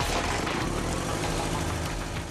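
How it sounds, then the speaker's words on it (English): A steady, loud mechanical engine drone with rhythmic knocking pulses, continuous and close, with no voices: a Suzuki engine turned by an electric motor for a compression test on the assembly line. "The final step on the engine assembly line is a compression test."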